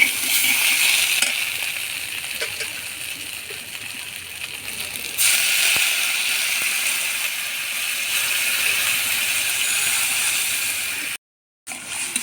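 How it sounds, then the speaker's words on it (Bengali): Water poured into a pan of sizzling fried spice paste with asafoetida for a potato and drumstick curry, giving a steady bright hiss and crackle throughout, then a brief dropout near the end. "মশলাটা কষানো হয়ে গেছে, এবার জল ঢেলে দেবো।"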